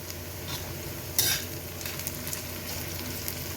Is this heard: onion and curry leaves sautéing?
yes